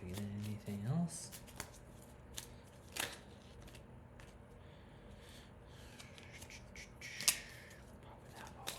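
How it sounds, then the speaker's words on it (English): A deck of tarot cards is shuffled like a playing deck, with repeated soft riffling and rubbing bursts close by and a few sharper card snaps, amid quiet handling. "Proper card, like a playing deck. Proper shuffle."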